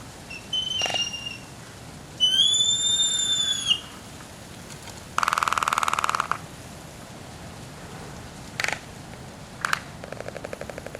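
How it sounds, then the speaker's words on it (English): Albatrosses on Kauai during their noisy mating dance give scattered whistling squeals, a drawn-out buzzing call and rapid bill clacks. Each outburst is separated by quiet outdoor ambience. "They perform an intricate and noisy mating dance."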